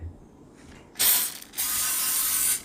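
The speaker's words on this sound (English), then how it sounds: "we want to spray it down with some olive oil" Two short hissing bursts of an olive oil spray nozzle into madeleine baking molds, the second longer and sustained, close and loud against a quiet background.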